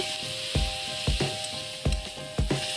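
Spice paste of ground coriander, cumin, chilli and turmeric with slit green chillies fries in a pan for masala doi begun, a constant close sizzle broken by several stirring scrapes.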